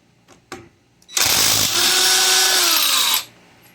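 A Ryobi PCL265 cordless impact wrench removes a lug nut. A couple of soft clicks come first, then one loud, close burst of about two seconds with a whining motor that drops in pitch before cutting off.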